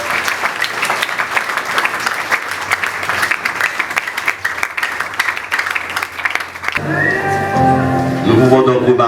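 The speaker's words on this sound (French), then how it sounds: "Et je vous demande d'applaudir aussi le pasteur." A congregation applauds the pastor at a 21st-anniversary service in an evangelical chapel, with dense, sustained clapping filling the room for several seconds before it gives way to a voice and tonal sound near the end.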